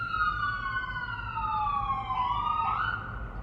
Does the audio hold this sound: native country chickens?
no